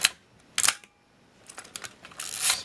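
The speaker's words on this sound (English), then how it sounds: "Let's speed that shutter up a bit." Nikon FE film camera shutter firing at a faster speed, several crisp mechanical clicks with short film-advance whirs in between, close-up and isolated with no talk.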